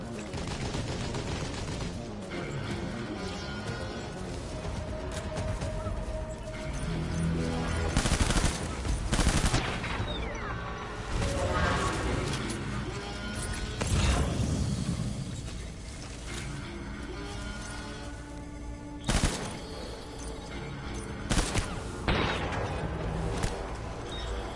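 Turret gunfire in the video game Death Stranding, long bursts of rapid automatic shots layered with mechanical clatter and game noise, loud throughout with several heavier blasts.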